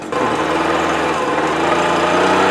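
A Stihl BR200 backpack leaf blower engine runs steadily near the listener at a moderate, even speed, with a buzzing two-stroke drone and no voices.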